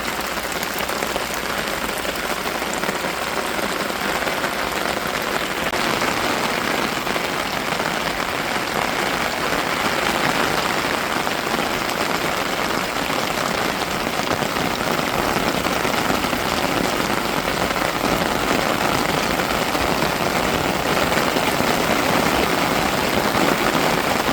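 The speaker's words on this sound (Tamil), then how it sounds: "நல்ல மழைங்க. ஆனால் சரியான அடிச்சு ஊற்று." Heavy rain pours down steadily over a rural village garden, a dense, constant hiss of drops pounding surfaces that stays loud and unbroken throughout with no voices.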